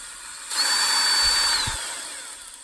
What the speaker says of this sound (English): Drilling it out a little bit wider.